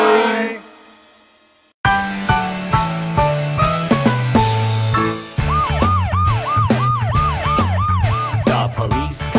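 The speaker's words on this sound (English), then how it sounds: "The police car patrols the town and town" A cartoon police car siren from a children's nursery rhyme, heard as a repeated rising-and-falling wail over a bouncy musical backing with no talk.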